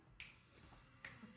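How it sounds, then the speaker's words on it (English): Two crisp finger snaps about a second apart, close and fairly quiet, during a live tabletop Dungeons & Dragons session, with no one talking over them. "Snap your fingers."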